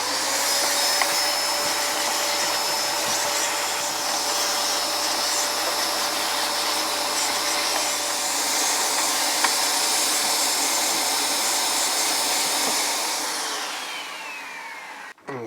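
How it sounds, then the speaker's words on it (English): A household vacuum cleaner fitted with a small PC-cleaning hose and brush attachment runs at a steady, loud, continuous whine, close by, before cutting off near the end. "PC cleaning kits, which has a little brush and a hose which connects to the regular vacuum cleaner"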